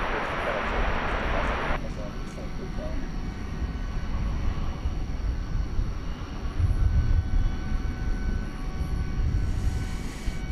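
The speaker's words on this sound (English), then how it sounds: "we do see this plane take off from the short T on 18 left" Airplane taking off at night from runway 18 Left at DFW Airport, a broad continuous engine roar that stays loud and steady throughout, with a brief hiss at the start and faint voices underneath.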